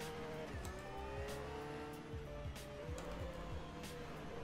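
A Porsche 911 GT3 races through corners at Sebring in rFactor 2, its engine revving up and down in steady shifts, with faint tire squeal and no talking, heard from inside the car at moderate volume.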